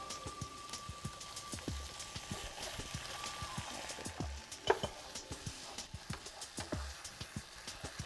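Crushed tomatoes hit a hot pan and sizzle with a soft, continuous crackle, broken by faint irregular clicks and taps of kitchen utensils, fairly quiet, with no talk.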